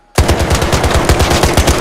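Rapid automatic gunfire bursts out abruptly and continues in a fast, steady stream of loud shots, close and without pause.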